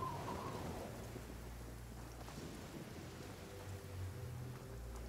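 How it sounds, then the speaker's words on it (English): A thunderstorm downpour in the Genshin Impact video game: steady heavy rain hisses throughout while low thunder rumbles roll beneath it, dense and continuous with no speech. "Taking a stroll in the middle of a downpour certainly rouses the spirit."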